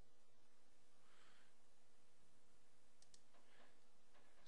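Faint computer mouse clicks while working in Dorado Software's Redcell network configuration software: a couple of soft, isolated ticks over a quiet, hissy background.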